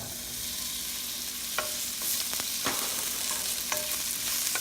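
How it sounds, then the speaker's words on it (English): Onions sautéing in a hot pan with ginger for chicken tamarind soup give a steady frying hiss, broken by a few sharp clicks and scrapes of a utensil against the pan, with no talking. "Let's saute this for a minute or so. Now we'll put our onions."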